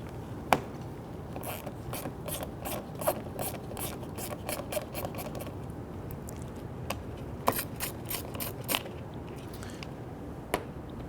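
A ratchet wrench removes a 7mm screw from the interior front door handle of a 2007-2014 Cadillac Escalade, giving bursts of rapid clicking that pause and resume, close and crisp, with no talking.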